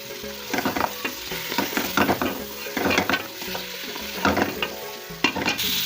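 Meat sizzles and fries with garlic-ginger paste in a pot for aloo gosht curry, a steady loud crackle broken by repeated scraping stirs of a spoon against the pan.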